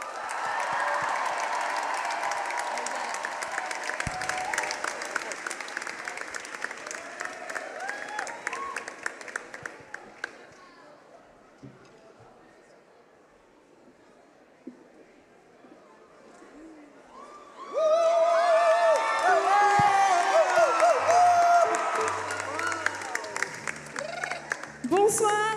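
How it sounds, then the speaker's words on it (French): An audience at the opening ceremony of Le Grand Kiff 2025 at La Force claps through the first ten seconds. The clapping fades into a near-silent gap, then loud voices and chatter return close to the mic. "Marilyn, on l'applaudit bien fort!"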